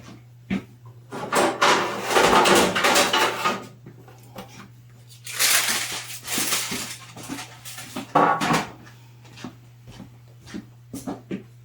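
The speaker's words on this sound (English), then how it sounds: "I'm going to get another pan here." Pans being pulled out of a kitchen cupboard, bursts of rattling and scraping metal with thumps and knocks, close and loud, separated by quieter pauses with a steady low hum underneath.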